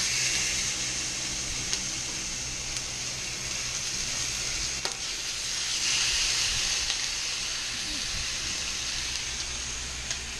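Chicken pieces, bone-in, browning undisturbed in a hot pan for slow-cooker chicken soup: a steady, dense sizzle holds evenly throughout with a few faint pops and crackles, no voices.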